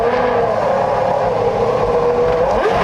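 A Formula 1 race car engine on track at the 2003 Australian Grand Prix, a loud, continuous high-pitched whine held close and steady, dipping slightly right at the end.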